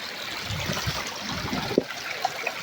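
Spring water welling up out of the ground at a long-dry spot, a soft steady trickle and gurgle heard close by, with a couple of small splashes and no talk.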